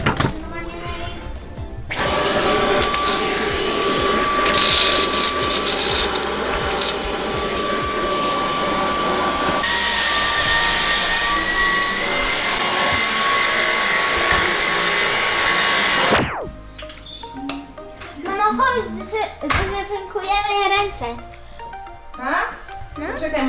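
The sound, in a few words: vacuum cleaner cleaning a pet cage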